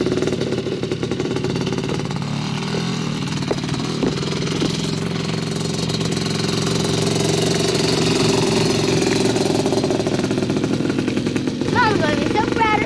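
A 250R engine idling, a steady low mid-pitched rumble running throughout with people talking over it.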